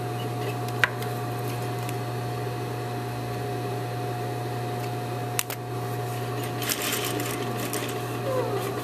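A sewing machine runs steadily while stitching a curved lined pocket, its close, continuous mechanical whir interrupted by a couple of sharp clicks.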